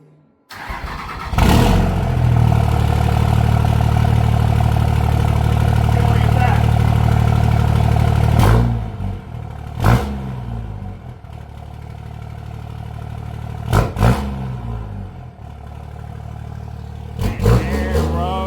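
A truck engine, said to make 1,000 horsepower, turns over and settles into a loud, close, rough idle for several seconds. After that it gives a few short revving blips over a lower idle while people talk nearby.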